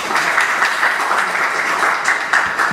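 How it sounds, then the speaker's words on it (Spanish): A seminar audience claps firmly to welcome a doctor to the podium, a short burst of dense applause with a few sharper individual claps standing out. "con un fuerte aplauso recibamos al doctor Ángel Ahmed Durón"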